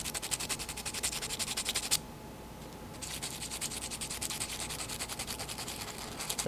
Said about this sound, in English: You don't have to sand really hard.